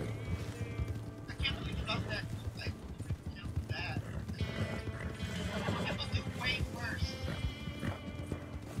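Horses in Red Dead Online whinny several times over a steady clip-clop of hooves, while people talk over the game sounds.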